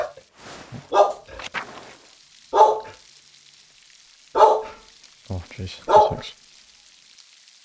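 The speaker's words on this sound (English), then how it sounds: "Apologies for loud barks. There's a delivery at the door in the show." A dog barks in loud, separate bursts at a delivery arriving at the door, with a voice briefly speaking between the barks.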